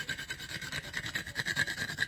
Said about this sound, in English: Now I use whole nutmeg, which I have this nifty little porcelain grater for.